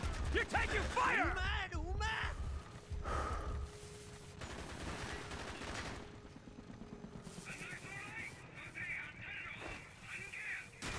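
Call of Duty Black Ops combat: bursts of automatic gunfire and heavy impacts ring out amid shouting game voices, loud at first, then easing into sporadic distant shots and ambience.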